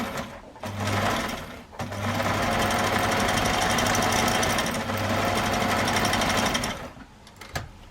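A sewing machine runs steadily while stitching a crossbody shoulder bag, with a brief pause before continuing, then stopping; its motor whirs loud and close and no one talks.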